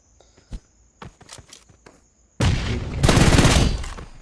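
Footsteps patter in a battle royale video game, then loud close automatic gunfire erupts in a sustained burst as an enemy is knocked down, with no talk.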